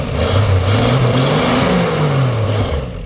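A classic Dodge truck engine, running again after 30 years, revs up and back down in one loud, close, continuous sweep with no voices.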